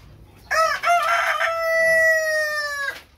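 A black Australorp rooster crows once, loud and close: a full cock-a-doodle-doo with a rising opening and a long sustained, slightly wavering tail lasting about two and a half seconds.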